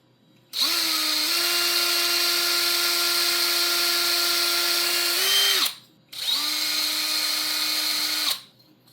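Small power drill with an M2.5 bit drilling out a hole in a Ghostbusters model part, a close steady high whine for about five seconds, a brief pause, then a second two-second burst.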